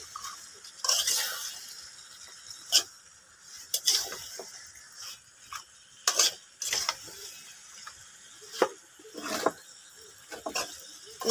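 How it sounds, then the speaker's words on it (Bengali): Stirring a flat bean and hilsa fish curry in a pan, with scattered scraping clatters of the spoon against the metal over a soft sizzle, irregular and fairly quiet. "এখন এটা ভালো করে নেড়ে চেড়ে দিচ্ছি বন্ধুরা।"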